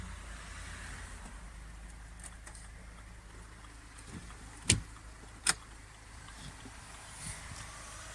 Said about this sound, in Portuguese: Olha só o funcionamento do carro, pessoal.